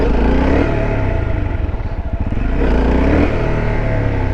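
A high-revving sport motorcycle engine revs and roars up close, rising and falling in pitch with a throaty, rapid rumble throughout, no speech.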